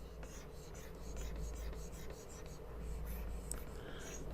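A drawing medium scratches and rasps in light, repeated strokes across textured paper, close and quiet, with soft, uneven grain in each pass.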